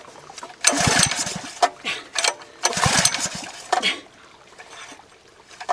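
A Honda engine on a wildfire protection trailer is pull-started twice, each yank giving a short rattling crank that fails to catch, with quiet pauses between the attempts.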